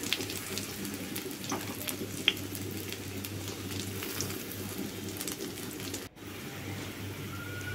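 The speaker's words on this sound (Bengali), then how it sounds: "এগুলো দিয়ে শাক একবারেই ভাজি বসিয়ে দিতেছি" Red amaranth greens fry in a pan, giving a steady, soft sizzle and crackle that holds at an even level throughout, with a faint clink partway through and no voices.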